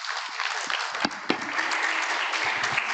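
Conference audience applauding panel speakers, a full steady patter of many hands with a couple of sharper nearby claps and a faint voice underneath.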